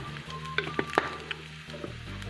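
Onions and whole cumin seeds fry in a kadai with a soft, continuous sizzle, broken by a few sharp stirring clicks and scrapes, over a low steady hum.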